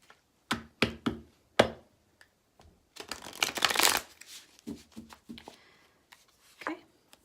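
Tarot cards being shuffled and tapped, a run of sharp close-up riffles and taps followed by a longer dense burst of card flutter, then more scattered taps, heard alone without talk.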